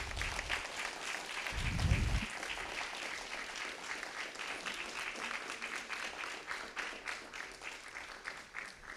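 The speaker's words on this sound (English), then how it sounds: "And a big applause again." A symposium audience applauds at the end of a talk, with steady, moderately distant clapping that continues throughout and a brief low thump near the start.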